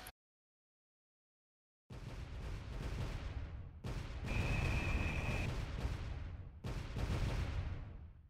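Gunfire rakes a ship in the space game StarMade, with bursts of rumbling shots and heavy booming volleys that start after a moment of silence and come in three clustered runs, broken by brief gaps.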